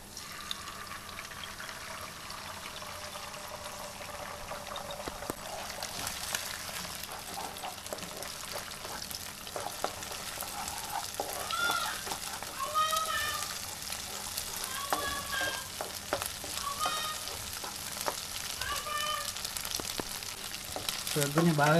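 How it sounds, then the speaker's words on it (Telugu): Beaten egg sizzling as it fries in a pan with chilli and garlic, a steady hiss with stirring scrapes, for noodles cooked at home. "ఇప్పుడు ఈ బీట్ చేసిన ఎగ్ని అందులోకి వేసుకుందాము."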